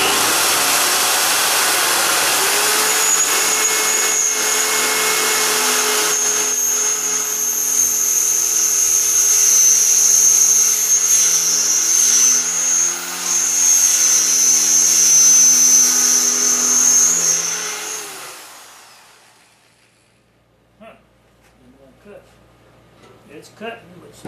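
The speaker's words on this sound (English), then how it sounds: "I'll have to drill several holes through this." A power drill whines steadily at high pitch for about seventeen seconds while boring holes through a rubber tire casing, then winds down and stops, leaving quiet with faint small knocks.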